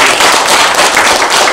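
Loud, dense applause from an audience at a forum's annual general meeting, a steady wash of clapping filling the whole moment.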